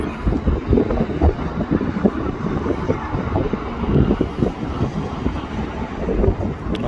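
A 2015 Ford Grand Tourneo Connect engine runs at idle with a loud, continuous, throaty low rumble, heavily mixed with wind buffeting on the microphone.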